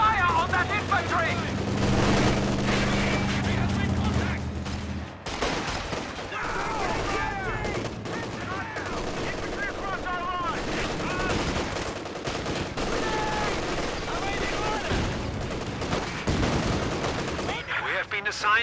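Dense, continuous gunfire and machine-gun bursts mixed with heavier explosions fill a World War II strategy video game battle as units fire on infantry, with voices audible beneath the din.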